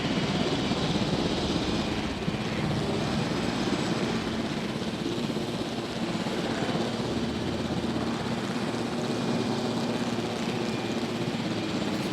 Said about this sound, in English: very low-flying helicopter.